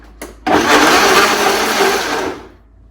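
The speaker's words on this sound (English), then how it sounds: "So let's go to the blender." A blender whirs loudly for about two seconds, quickly pulsing chunky molcajete-style salsa, then spins down to quiet.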